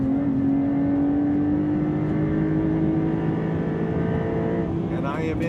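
Porsche 911 Carrera T flat-six engine pulling steadily in third gear, a loud continuous rising drone from the cabin that sounds smooth and sustained throughout.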